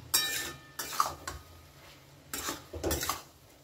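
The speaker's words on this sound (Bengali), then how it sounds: "এবারে আমি ঢাকাটা খুলে নেব।" A lid comes off a cooking pot of loti and prawns, giving a few sharp metallic clanks and clinks in separate bursts with quiet gaps between them, close by.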